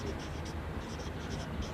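Pen scratching across paper while a math solution on a geometric series is written out by hand, a faint, steady scratching with short repeated strokes.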